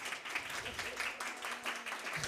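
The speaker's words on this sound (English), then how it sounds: "So please give Maya a round of applause as well." Audience applause for Maya at a community talk in a hosted venue, a soft, steady patter of clapping heard from a distance with faint murmuring mixed in.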